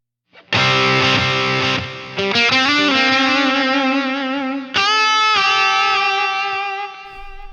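An electric guitar through overdrive, delay and reverb into an amp plays sustained chords and notes, each ringing out with echoing repeats and a reverberant tail, loud and close.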